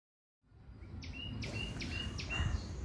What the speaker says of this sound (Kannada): ಪರಿಸರ ಅಂದ್ರೆ ಪಕ್ಷಿ ಕೂಗುದು ಅದು ಎಲ್ಲ ಕೇಳಾತಿತ್ತು